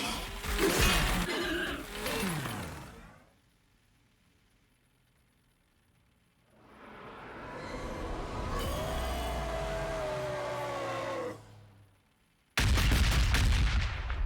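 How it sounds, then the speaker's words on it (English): A frag cannon fires in the Warhammer 40,000: Battlesector game during a Tyranids versus Blood Angels battle: loud explosive bursts with a drawn-out roaring blast in the middle, separated by quiet gaps, and a sharp crack at the end. "Must have been the frag cannon."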